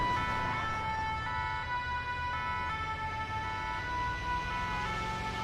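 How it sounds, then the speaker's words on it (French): An emergency vehicle siren from the video game GTA 5 wails steadily and without pause over a low engine and road rumble, with no talking. "il coupe jamais la sirène"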